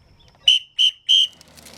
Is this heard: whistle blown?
yes